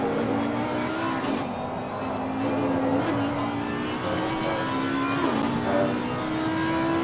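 A V10 GT3 race car engine howls continuously on track, its pitch climbing and dropping through gear changes with a strong, close, sustained roar and no voices.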